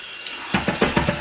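Tap water runs into a sink, with a few quick splashy bursts as an electric head shaver is rinsed under the stream; close and brief.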